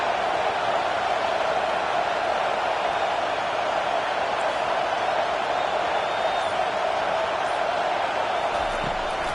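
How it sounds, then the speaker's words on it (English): Loud, steady roar of a stadium crowd at a college football game, fans cheering for the home defense on third down, a dense continuous wall of noise holding at the same level for the whole stretch with no talk on top. "Decibels rising as the crowd gets behind this defense on 3rd down."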